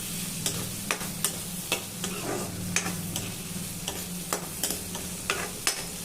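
Chopped onion pieces fry in oil in a pan, giving a loud, continuous sizzle while a spoon scrapes and taps at an uneven, fairly quick pace, close up and with nobody talking.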